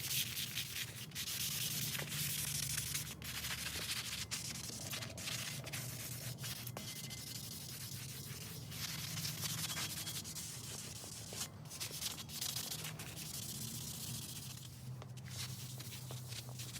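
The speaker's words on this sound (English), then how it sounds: "taking it with that sanding pad in several different directions, really helped to bring all that surface rust up" A sanding pad scrubs surface rust off a metal tool surface soaked with WD-40, making continuous rough rubbing strokes back and forth in several directions, close and fairly quiet, with no talking.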